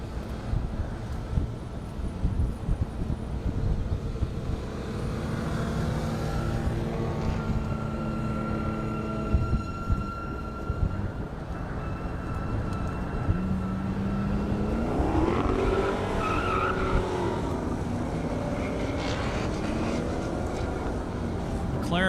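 A McLaren accelerates down a half-mile airstrip at a 200+ mph drag event, its engine note rising in pitch over steady wind and crowd noise, with a commentator talking over it.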